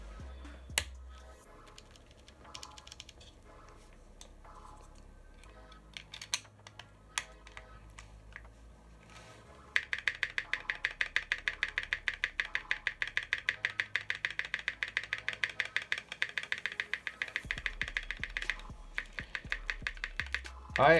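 Typing on a Sangeo 65 keyboard fitted with Tecsee Ice Candy switches: a close, steady run of clacky keystrokes that thickens into a fast, dense burst partway through, heard alone.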